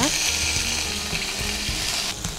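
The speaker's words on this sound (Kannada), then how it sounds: "ಜಿಂಜರ್ ಗಾರ್ಲಿಕ್ ಪೇಸ್ಟ್ ಹಾಕೋಣ." Ginger garlic paste frying in a kadai while cooking achari kadai paneer, giving a steady, loud sizzle with faint scraping and stirring clicks throughout.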